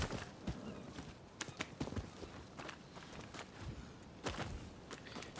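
A horse walks in Rise of the Ronin, its hooves clip-clopping in an irregular rhythm of sharp, moderately faint strikes over a quiet outdoor background.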